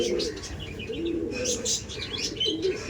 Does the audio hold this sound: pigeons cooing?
yes